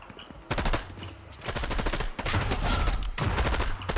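A wood stake shotgun fires in a shooter video game, with dense, loud bursts of gunfire following one another almost nonstop and only brief gaps between them.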